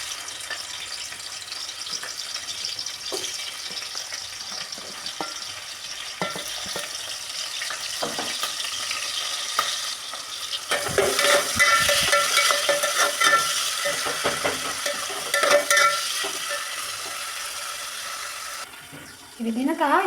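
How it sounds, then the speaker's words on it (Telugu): Green chillies and onion sizzle in hot oil in a pan while being stirred. The frying hiss grows louder and denser about halfway through, with faint scraping and a soft background voice. "దీంట్లో పచ్చిమిర ఉల్లిగడ్డ వేసుకుందాం."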